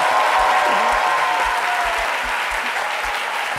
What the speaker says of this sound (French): je vous invite à recevoir ces applaudissements ressuscités du public.